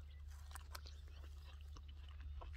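Crunchy bites into a firm Mediabel apricot, a few sharp crisp snaps followed by close chewing over a steady low background hum, with no talking.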